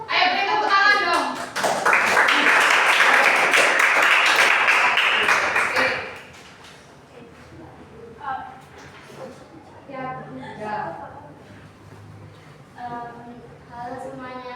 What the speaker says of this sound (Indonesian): Ayo beri tepuk tangan dong.